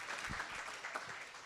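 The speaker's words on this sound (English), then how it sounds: "So, an applause." An audience at a Rotary club gathering in a hall gives brief, faint clapping, soft and distant, with a few murmured voices mixed in.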